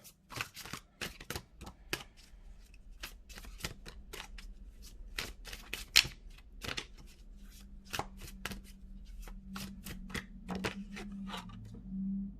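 Tarot cards shuffled and drawn by hand, a run of crisp, rapid riffling clicks and slaps in an uneven rhythm, close and fairly quiet, with no talking.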